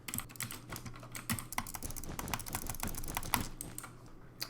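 Fast, dense clicking of a computer mouse mixed with keyboard key presses while wall running in a video game, a steady rapid clatter close to the microphone with no talking.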